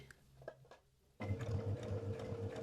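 A sewing machine runs stitching around a seam edge about a quarter inch in. A few quiet clicks come first, then the motor starts with a steady, close whirring hum and a rapid needle rhythm.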